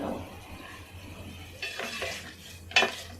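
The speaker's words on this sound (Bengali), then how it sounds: "এভাবেই আমি নেড়েচেড়ে কষিয়ে নেব।" Potatoes being stirred with spices in a pan over medium heat: soft scraping and light clinks of a utensil against the pan in short bursts, with a faint sizzle underneath.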